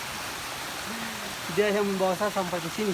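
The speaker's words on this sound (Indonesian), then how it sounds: "dan ini adalah air terjun yang dimaksud oleh" A steady broadband rush of falling water from a waterfall deep in the Kasiruta forest of Halmahera fills the clip, with someone speaking over the constant roar.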